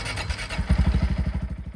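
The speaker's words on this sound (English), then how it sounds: "start the engine to allow the oil to circulate" A Honda Monkey/Grom motorcycle engine fires up after a brief quiet start, then settles into a steady, close, pulsing idle with a rapid regular thump.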